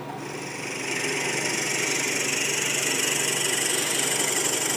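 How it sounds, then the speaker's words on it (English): Steady loud whirring of a drill boring into a wooden cheese grater handle on a spinning Powermatic lathe, with a continuous motor hum and gritty cutting noise throughout. "I use the Powermatic for drilling the hole"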